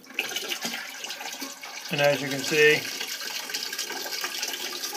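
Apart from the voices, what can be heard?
water pouring out of toilet during fill valve removal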